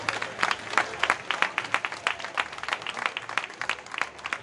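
An audience gives a guest a welcoming round of applause, a steady patter of many hands clapping at moderate distance, with no voices over it.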